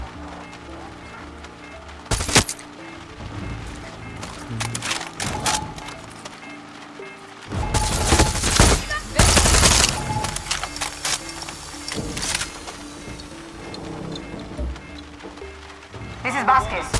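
Ship-mounted turrets fire in Far Cry 6, heavy bursts of gunfire at intervals, some loud and close, mixed with ongoing combat noise and occasional voices in between.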